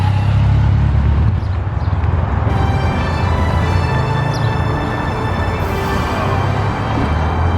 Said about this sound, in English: I don't want to get run over by this motorcycle.